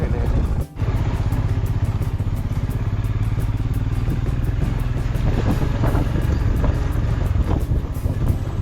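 A Royal Enfield Scram 440 motorcycle rides along a monsoon route to Rajmachi, its engine drumming steadily and close throughout, with wind rush and a brief dip near the start.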